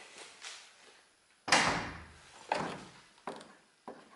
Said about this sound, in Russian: Дверь. Видно? Ой, слышно?